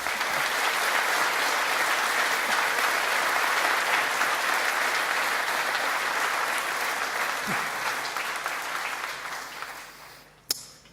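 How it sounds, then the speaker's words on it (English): A graduation audience gives a round of applause to higher education staff at an art and design ceremony, sustained crowd clapping that holds steady before fading out near the end. "Please give them a round of applause."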